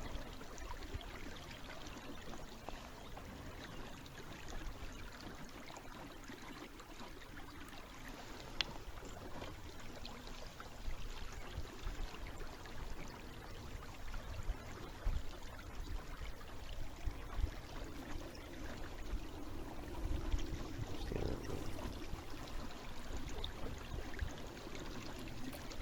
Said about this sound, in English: So I kind of like this clip and the sound of water.